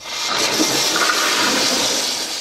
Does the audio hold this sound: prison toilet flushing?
yes